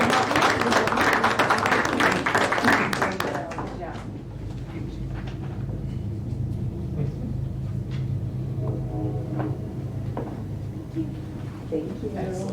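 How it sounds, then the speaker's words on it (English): A room at a mayor and council meeting breaks into a burst of clapping for about four seconds, fading into murmuring and shuffling with voices talking. "Let's give them a big round of applause."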